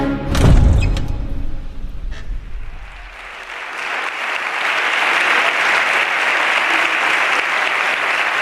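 A large crowd applauds a political leader of the PP, a broad, continuous roar of clapping that rises after a brief low rumble and holds steady and loud.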